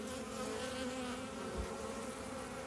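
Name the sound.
honeybees buzzing at a hive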